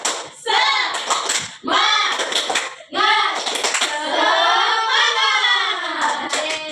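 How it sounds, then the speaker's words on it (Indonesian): Schoolchildren in an elementary classroom perform a rhythmic spirit clap, chanting together in loud voices between bursts of patterned hand claps. "tahu semua tepuk semangat?"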